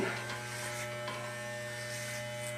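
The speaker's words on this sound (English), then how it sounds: "let me go grab my clippers" Electric hair clippers run with a steady close buzz during a short home haircut, humming continuously with faint rustles as they move through the hair.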